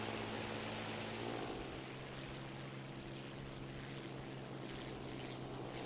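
A P-51 propeller fighter diving in the video game War Thunder gives a steady, droning engine roar that holds throughout with a slight shift in tone early on; there is no talking.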